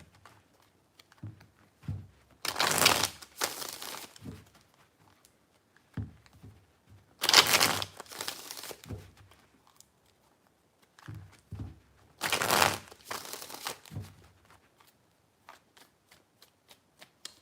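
Tarot cards are shuffled in three distinct riffle bursts spaced several seconds apart, each a crisp close flutter, with softer taps and card handling between them.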